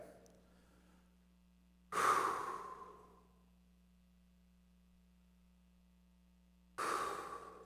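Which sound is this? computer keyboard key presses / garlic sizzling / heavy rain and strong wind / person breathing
person breathing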